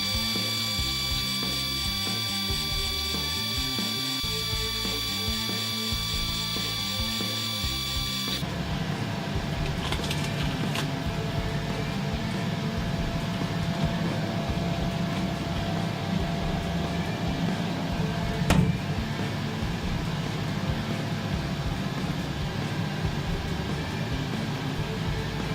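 A Muse desktop laser cutter works through EVA foam sheet for cosplay gauntlet parts, a steady whirring mechanical drone with faint rhythmic ticking that shifts character partway through, with a brief sharp click near the end and no talk.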